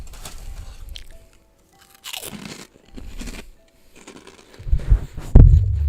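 Crunching on food while eating, loud and close, with a burst of heavy chewing crunches near the end after quieter intermittent rustles and pauses.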